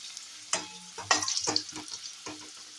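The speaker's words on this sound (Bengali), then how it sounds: "আমি একটু লাল লাল করে আগে চিকেনের আলুগুলো ফ্রাই করে নেবো" Potatoes for chicken curry sizzle and crackle in hot oil, with several bursts of stirring and spattering in a close, busy frying sound.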